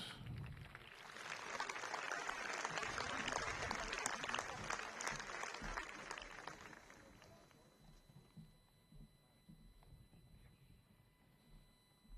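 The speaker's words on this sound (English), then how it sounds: "Please give them a round of applause." Audience at a high school capping ceremony breaks into sustained applause that swells over the first few seconds, then gradually thins and fades toward the end.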